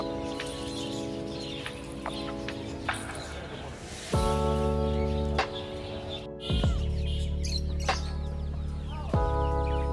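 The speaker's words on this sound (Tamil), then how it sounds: "அங்கே வந்து கோழியும் இருந்துச்சு, நாட்டுக்கோழியும் அங்கே நிறையவே இருந்தது." Free-range country chickens cluck repeatedly at a bird market where birds and plants are bought for a garden, loud and close over a steady crowd murmur with people talking nearby.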